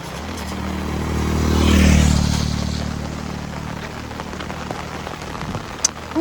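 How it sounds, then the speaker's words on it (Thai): Heavy rain from a storm lasting several days in a flooded area, a dense, loud, continuous hiss of drops on surfaces, with a vehicle swelling past in the first seconds. "ฝนตกหนักเดือน9คือตกหนักๆ"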